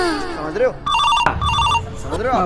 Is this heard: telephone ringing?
yes